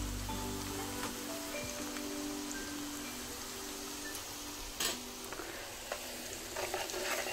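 Onion and tomato fry in a pan with a steady, soft sizzle and faint crackle, close by, with a few light clinks near the end.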